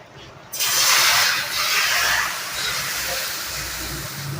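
Onion rava dosa batter hits a hot tawa on a gas stove with a sudden loud hiss after a brief quiet moment, then keeps sizzling steadily and eases off slightly toward the end.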